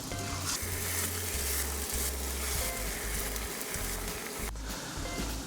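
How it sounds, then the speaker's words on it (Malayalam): Egg pieces dipped in batter for Egg Manchurian deep-fry in hot oil over a medium flame, giving a steady, dense sizzle with crackling bubbles throughout and a low hum underneath, with no talking. "ഇനി ഈ എഗ് പീസസിനെ നമുക്ക് എണ്ണയിലൊന്ന് വറുത്ത് കോരണം"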